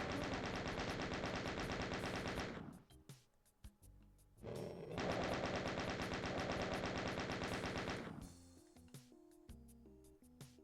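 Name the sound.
chain gun firing in video game Doom II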